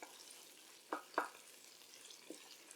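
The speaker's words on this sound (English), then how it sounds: "I'm just going to add the grated garlic in and just stir it up for a few seconds until it warms through" Grated garlic stirred into sautéed onions in a pan, a faint soft sizzle with a few quick scraping stirs of a utensil, quiet and close, no talking.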